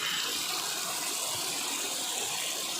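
Water flows along a slippery hillside trail, a steady, close rushing and gushing hiss that stays constant throughout, with no voices.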